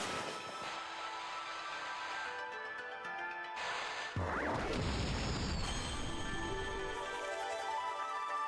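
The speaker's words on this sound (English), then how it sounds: "It blasted that cracked wall to smithereens!" A Cherry Bomb blasts a cracked wall in a video game: a loud booming crash breaks over steady game music, followed by a rumbling, crumbling tail that fades back into the music.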